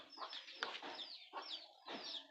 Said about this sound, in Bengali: ওই যে মুরগি গেল বাইরে গেল